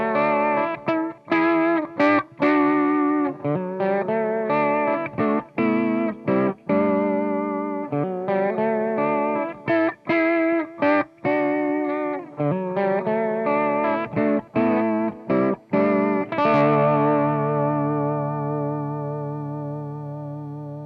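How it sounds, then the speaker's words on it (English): Electric guitar chords played through a TC Electronic Shaker vibrato pedal set to a slow vibrato, giving a steady warbling pitch movement to each strum; rhythmic chord hits sound up close and fill the clip, with the last chord left ringing. "I'm using a slightly slower vibrato to get a little bit of edge and movement to my chord playing"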